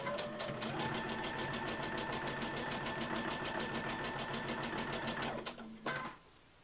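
Sewing machine stitching quilt block pieces in a continuous chain, running fast and steady close by for about five seconds before slowing and stopping with a few final clicks.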